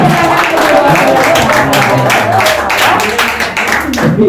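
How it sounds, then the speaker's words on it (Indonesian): Young people at a church youth talk show in Indonesia clap together, giving close, lively hand claps with voices and crowd noise mixed underneath. "Tepuk tangan dulu."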